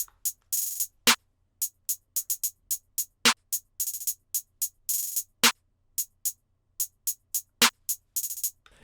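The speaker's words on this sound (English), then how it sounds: "Starting off, guys, we have the hi-hat and clap," Crisp hi-hat ticks and open-hat bursts form a sparse, syncopated rap beat pattern, punctuated by sharp claps at regular intervals, with no voices.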